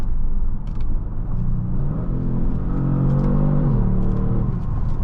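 A 2022 Kia Stinger GT2 accelerates hard, its engine note rising steadily in pitch with a brief dip around a gear change, loud and continuous with rumbling road noise underneath.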